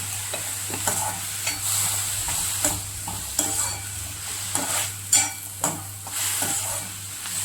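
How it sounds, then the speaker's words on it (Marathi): Tomato chutney bubbles and sizzles in a pan while a spoon scrapes and stirs it in repeated close strokes, with soft clinks against the metal over a steady cooking hiss. "आता हा टोमॅटो पूर्णपणे वितळेपर्यंत, शिजेपर्यंत त्याला आपण मधून मधून हलवत राहायचं"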